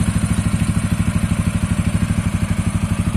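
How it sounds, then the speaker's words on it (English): A TVS Ronin 225 motorcycle idling close by, its engine thumping in an even, rapid pulse with a loud exhaust note throughout. "we have fired up the bike, and let's hear the exhaust note at the same time"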